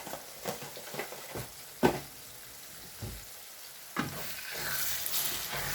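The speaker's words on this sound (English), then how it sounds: "You see, you have to keep stirring, so otherwise it becomes sticky." Egusi soup with crayfish being stirred in a pot, a run of irregular scrapes and knocks from the spoon followed by a thicker, growing sizzle, close and moderately loud with no voices.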